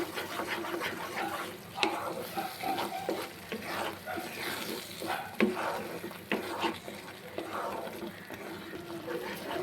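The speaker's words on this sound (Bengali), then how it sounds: "সমস্ত মশলার সাথে আমি পেস্টটাকে মিশিয়ে নেব" Fried spices being stirred into a paste of fried onions for egg curry, a thick, wet scraping and mixing with soft sizzling, irregular spoon strokes close by and fairly loud, no talking.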